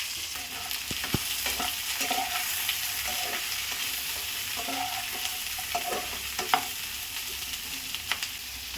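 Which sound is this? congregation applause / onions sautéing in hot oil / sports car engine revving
onions sautéing in hot oil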